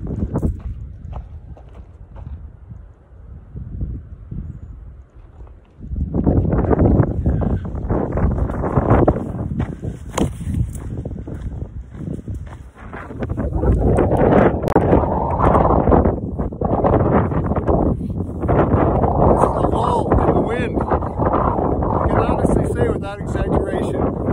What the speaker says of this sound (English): I've never been outside and wind this strong.